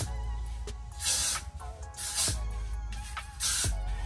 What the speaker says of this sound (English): Spray a little bit back here.